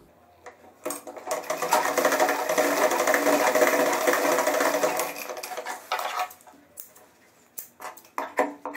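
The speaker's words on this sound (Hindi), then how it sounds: "अब ये सीधी सिलाई आप लगा लीजिए" Stitching a trouser pocket lining, a sewing machine whirs in one steady, close run of several seconds, followed by scattered clicks and fabric handling.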